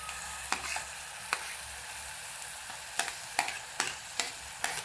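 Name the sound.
onion frying with prawn masala in pan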